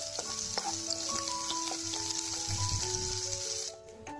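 Chopped onion frying in a pan gives a constant bright sizzle with scattered spatters, close up. Faint tonal background music runs beneath it, and the sizzle drops away near the end.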